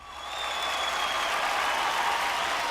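Audience applause swells in within the first half second and holds as a dense, steady wash of clapping from a large crowd at a live event, loud and continuous with no speech over it.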